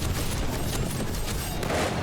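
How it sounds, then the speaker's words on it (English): Rapid pistol shots in the zombie survival game 7 Days to Die ring out as a dense, continuous volley of sharp cracks over two seconds, loud and close with no pause between reports. "I'm going to keep firing at you until I hit you. I'm going long distance with a pistol, good sir."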